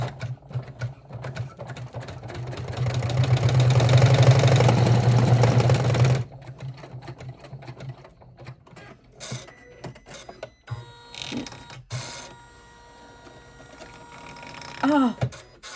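An embroidery machine stitches a flapped purse, its needle failing to rise fully and scraping across the top of the bag. A loud steady whirring runs for about six seconds, then gives way to quieter intermittent clicks and mechanical taps.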